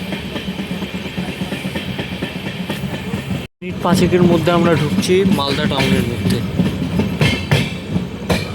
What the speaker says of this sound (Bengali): ট্রেন খুব ভালো স্পিডে